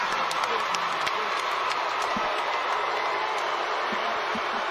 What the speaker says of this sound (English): The crowd showing their approval and their appreciation.